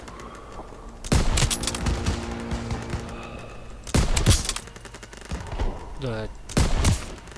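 Bursts of gunfire from a World War II shooter, Call of Duty: World at War, fire in three loud volleys with quieter battle noise between them, while someone speaks briefly over the shooting.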